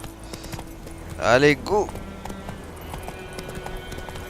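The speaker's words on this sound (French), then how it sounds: "Heureusement, Gérald peut toujours compter sur son cheval à blette durant ses voyages." Horse hooves clip-clop in steady, even steps during a ride in The Witcher 3 video game. A voice briefly speaks over the hoofbeats.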